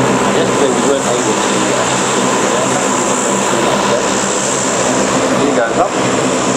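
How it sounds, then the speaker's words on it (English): Aircraft in formation rolling down the runway for takeoff at a military airshow with smoke on, a loud steady engine roar filling the clip, with crowd noise or talk mixed in. "Putting the smoke on as they roll down the runway"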